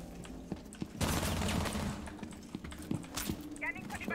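Gunfire in the Rainbow Six Siege video game: a quiet burst of rapid shots mid-clip, then a few scattered single cracks, faint under the game's background noise.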